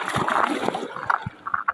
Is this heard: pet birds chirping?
no